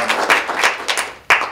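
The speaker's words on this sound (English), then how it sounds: "You can clap for that, right?" An audience at an indoor community event claps in short, uneven bursts, a near round of applause that dips briefly and then swells again.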